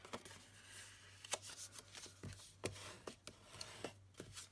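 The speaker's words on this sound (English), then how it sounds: "I'm going to fold and burnish both ways" Card paper being folded and burnished for a garden teepee card, giving a series of soft, close scraping strokes and brisk rubs in an irregular rhythm over a low steady hum, with no talk.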